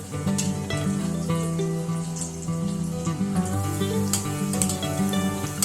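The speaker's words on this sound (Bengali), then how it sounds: "বড়ার ব্যাটার থেকে 1 চামচ মতো নিয়ে তেলের মধ্যে দিয়ে দিচ্ছি" Spoonfuls of Bengali-style fish egg (macher dimer) fritter batter sizzle steadily in hot oil over a medium flame, a continuous close crackle with scattered sharper pops and no talking.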